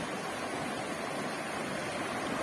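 The Rio da Caixa runs full of clean water, a steady close rushing roar that stays even throughout with no voices.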